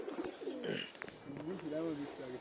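Racing pigeons returning from a tournament coo softly close by in several low, rolling warbles, heard quietly against a faint background.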